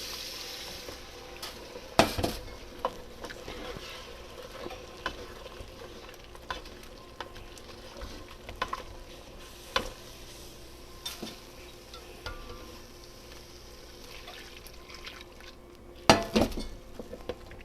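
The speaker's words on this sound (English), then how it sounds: "stir in our hot water. And this is going to help get some of that goodness off the bottom of your pan." Hot water being stirred into a chicken and sausage gumbo pan to deglaze the bottom, with a soft continuous sizzle, scraping, and occasional utensil clinks against the pot.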